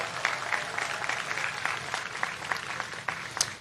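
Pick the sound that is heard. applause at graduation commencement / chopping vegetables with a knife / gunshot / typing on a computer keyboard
applause at graduation commencement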